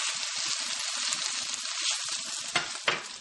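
Bacon frying in a hot pan gives a steady, close crackling sizzle, with a couple of sharper pops and spatters near the end as the strips are pressed down.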